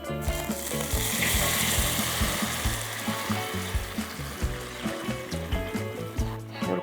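Garlic in olive oil sizzles and crackles in a pan with a little pasta water added, a dense, continuous frying hiss with bubbling texture throughout.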